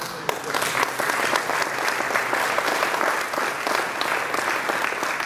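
A crowd at a Plattsburgh airport ceremony marking the arrival of United Express/SkyWest service applauds airport manager Chris Craig with continuous, dense clapping at a steady, fairly loud level throughout.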